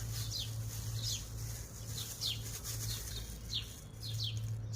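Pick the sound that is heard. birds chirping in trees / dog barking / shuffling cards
birds chirping in trees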